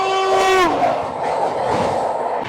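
The Gatimaan Express rushing along at over 140 km/h, a loud train horn blaring briefly at the start before giving way to a steady roaring rumble of wheels and wind.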